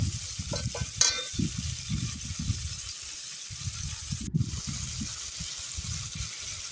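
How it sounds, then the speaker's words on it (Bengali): Frying sizzle as taro stolons are sautéed in a pan, with repeated scraping and stirring, close and steady, with a brief clatter partway through. "লতিগুলো এখন আমি দিয়ে দিব কষানোর জন্য লতিটা ভালো করে কষানোর জন্য কষিয়ে নেব ভালো করে"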